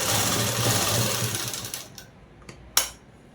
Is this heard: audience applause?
no